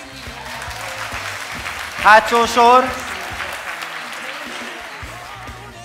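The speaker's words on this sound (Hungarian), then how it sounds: "azt tapsoljon, aki marad velünk egy kicsit bulizni ma" An audience claps steadily at a Decoration & Design birthday event, while a voice speaks over the applause.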